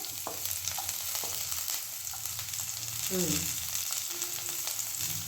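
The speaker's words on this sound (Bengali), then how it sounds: "বিনস আর রসুন আর জিরে একটু কড়াই ভেজে নিয়েছে।" Beans, garlic and cumin fry in a wok with a steady close sizzle, broken by a few stirring scrapes and clinks.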